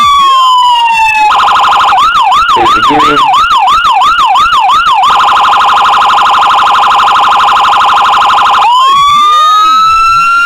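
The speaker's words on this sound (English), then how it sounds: "So there's all your different tones for the siren." A custom San Antonio Police Department Dodge Charger Pursuit's siren blares very loud and close, cycling through a rising wail, a rapid yelp and a steady tone before winding back down. A voice speaks briefly over it.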